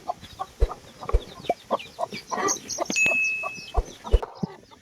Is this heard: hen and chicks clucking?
yes